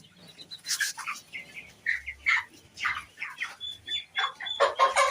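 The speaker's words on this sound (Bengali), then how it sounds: "এই যে হচ্ছে 21 ডেজ পাকিস্তানি মুরগি" Pakistani-breed chickens, 21 days old, cluck and call on a poultry farm in Hailakandi, with repeated close, overlapping clucks and short squawks coming in uneven bursts and no talk.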